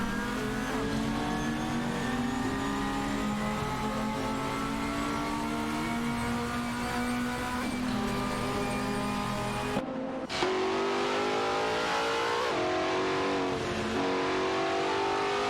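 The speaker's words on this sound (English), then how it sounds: "we're watching AI-controlled racing cars compete in a simulator race" AI-controlled race cars in a racing simulator game scream past in a steady high-pitched engine drone, one sharp cut midway, then revs climb again through gear changes, loud and unbroken with no voices.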